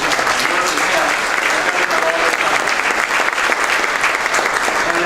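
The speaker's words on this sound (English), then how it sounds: "Give him a round of applause." Sustained, loud applause from an audience of county finance officers at a conference, steady dense clapping throughout with no pauses.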